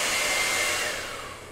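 A hair dryer runs steadily in the background of an indoor painting session, a constant whirring blow that eases slightly in loudness toward the end, with no talking.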